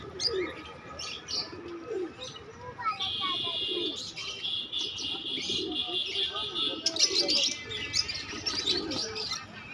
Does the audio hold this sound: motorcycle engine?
no